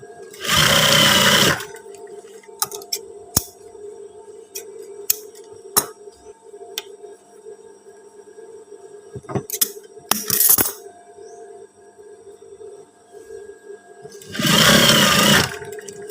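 A sewing machine stitches trousers in bursts. Loud rapid whirring runs of about a second or more open and close the span, with a short burst near the middle. Quieter clicks and a low steady hum fill the gaps between.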